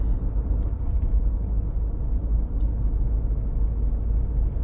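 Steady low road rumble inside a car cruising on smooth asphalt at about 30 mph and 1600 RPM, a constant droning hum with tire noise, no voices.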